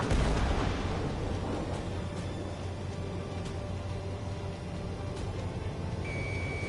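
Sustained rumbling artillery fire in the combat flight game Ace Combat 7, a dense continuous roar with occasional sharper bursts, loud and steady, no talking.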